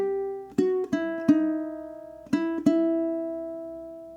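Low G ukulele fingerpicking bar 7 of Bach's Bourrée: a few clear plucked notes in a short rhythmic phrase, each ringing out and decaying, close and alone with no talk.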